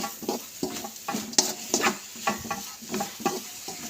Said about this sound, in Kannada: ಒಂದು ಚಮಚ ತೆಂಗಿನ ಎಣ್ಣೆ ಹಾಕಿ ಹುರಿತಾ ಇದ್ದೇನೆ